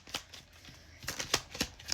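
Tarot cards shuffled by hand in quick riffling bursts, a cluster early on and then a run of sharp flicks near the end, close and crisp with no talking.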